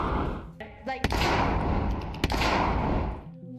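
Two sharp, loud gunshots ring out in the multiplayer video game Lockdown Protocol, spaced about a second apart, over busy background noise and voices.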